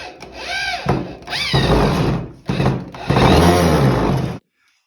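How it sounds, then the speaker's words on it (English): A power drill drives 2.5-inch Torx deck screws into the wooden bottom of a box, several loud whirring bursts rising in pitch, each ending as the screw seats, then silence. "we're gonna wanna screw this bottom on to finish off the project"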